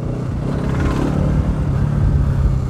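A Bajaj Pulsar RS200 motorcycle engine revs with a loud, steady, close rumble that holds for the whole short stretch. No voices are heard.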